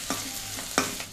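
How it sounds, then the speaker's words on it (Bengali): Ginger and green chili fry in hot oil in a home kitchen while being stirred for aloo samosa filling, a quiet sizzle punctuated by two short scraping stirs. "আদা কাঁচা লঙ্কাটা ভাজা হয়ে গেছে"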